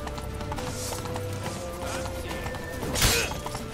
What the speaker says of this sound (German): Komm, Rittersporn, reite. Komm schon, reite, reite